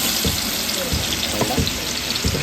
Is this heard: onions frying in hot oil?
yes